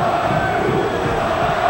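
São Paulo football supporters in the stadium during a 2005 Campeonato Paulista match against São Caetano, a loud, steady roar of a large crowd cheering and chanting, continuous and distant-sounding.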